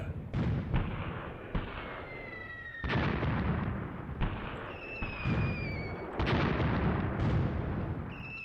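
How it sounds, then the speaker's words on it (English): Mortar fire in the WWII tactical video game Graviteam Tactics: Mius Front: a rapid series of about eight loud booming impacts at irregular intervals, each with a rumbling tail, some accompanied by whistling incoming shells, with no talking. "The mortars are doing a good job."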